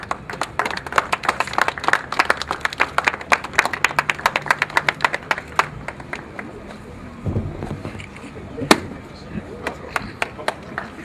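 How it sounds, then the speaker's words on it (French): At an open-house event, a small audience applauds after a symbolic ribbon cutting with sharp, scattered claps that thin out partway through, then return sparsely. "Sous vos applaudissements, s'il vous plaît."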